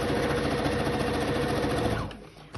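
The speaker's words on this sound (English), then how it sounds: "we're going to stitch all the way down from the top all the way down to the bottom." A sewing machine runs steadily, stitching a fabric seam for the front of a round floor cushion, with a continuous rapid mechanical whir that stops near the end, leaving a brief quiet tail.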